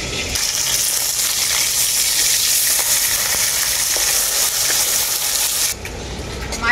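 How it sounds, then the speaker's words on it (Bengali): Flipped tilapia keeps frying in hot oil, giving a loud, close, continuous sizzling crackle that falls away abruptly toward the end, followed by a few faint clinks. "মাছগুলোকে আমি দু পিঠটাই পাল্টে পাল্টে খুব ভালো করে ভেজে নিয়েছি।"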